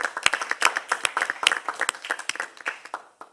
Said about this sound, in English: Let's give another round of applause to our speaker